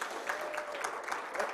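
Applause at a school board of education business meeting, with a moderate, continuous patter of clapping carrying scattered louder claps and slight swells.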